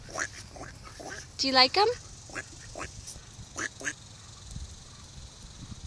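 Ducks quacking beside a river, a short burst of several loud calls near the middle, with faint scattered calls around it and a person talking over outdoor background noise.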